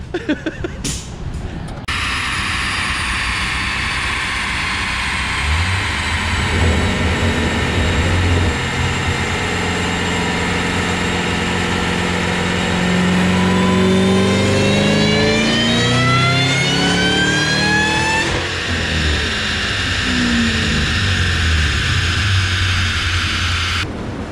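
A Mach 1 car revs hard on a dyno during a dyno-day pull, a loud close engine climbing through a long sustained run of rising pitch, then backing off, with no speech over it.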